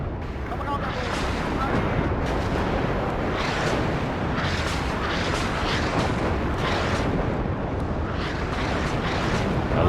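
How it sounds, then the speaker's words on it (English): Rocket artillery fire in the WARNO war game rumbles as a dense, continuous roar of overlapping blasts and whooshes, loud and sustained throughout. "A lot of this rocket artillery hasn't been able to hit the mark, which is really good for us."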